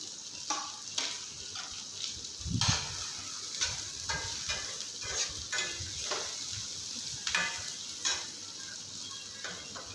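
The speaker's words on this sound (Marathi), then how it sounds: "आता हा कांदा आपण परतवून घेऊया सतत हलवत घ्यायचा आणि मस्त परतवायचा आहे" Onion sautéing in hot oil in a pan, with a steady sizzle broken by repeated scraping stir strokes and light utensil clicks against the pan, close and alone without talk.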